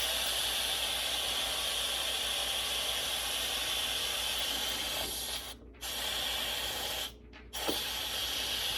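An Instant Pot vents steam through a novelty steam diverter as a loud, continuous, close hiss that briefly cuts out twice before resuming, with no talking.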